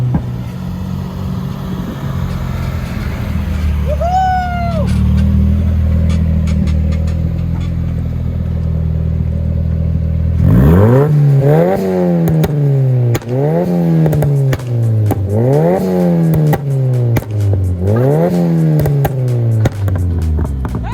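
A Nissan Silvia S14 sports car engine idles low, then from midway is revved hard repeatedly, about five sharp rising-and-falling blips in steady rhythm, loud and close.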